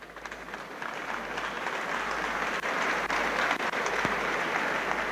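Audience at a university convocation lecture breaks into sustained applause, a dense, even wash of clapping that swells slightly and holds for several seconds.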